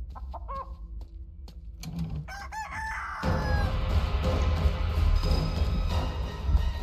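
A giant chicken in a video game crows and clucks in several sharp, close bursts. A loud, dense rush of noise then takes over and keeps on to the end.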